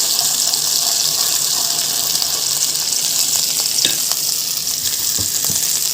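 Two spoons of vinegar hitting a hot pan while a tomato sauce for fatteh cooks, giving a loud, steady, close hiss of sizzling throughout with a few faint clicks.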